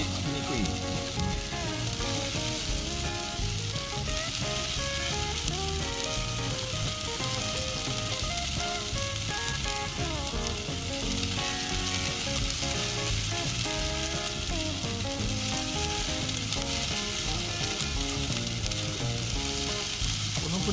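Fried rice sizzles and fries without oil in a marble-coated frying pan, cooked in a parked Nissan Leaf; a steady, loud, close hiss continues throughout with scraping and stirring clicks and no voices.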